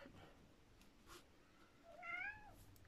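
A house cat meows near the microphone, a short rising-falling call lasting under a second toward the end, over a quiet indoor room.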